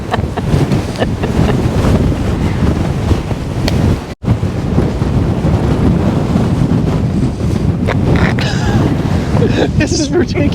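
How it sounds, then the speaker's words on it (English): Strong wind buffeting a microphone outdoors at an RV stop near Indian mounds, loud continuous roaring rumble with constant gusts, and people talking beneath it. "This wind is ridiculous."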